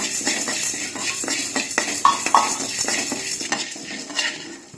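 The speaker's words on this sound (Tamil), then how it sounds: "கடாய் சூடு ஏறிடுச்சு. இப்போ துவரம் பருப்பு சேர்த்துக்கிறேன்." Toor dal dry-roasting in a hot kadai for seeraga kulambu, with a spoon scraping and clinking against the metal pan in a steady rhythm of close stirring strokes and a couple of sharper knocks.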